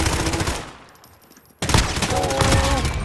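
Pistol gunfire in Call of Duty: Modern Warfare, loud rapid volleys of shots that stop briefly for a near-silent pause, then resume even harder.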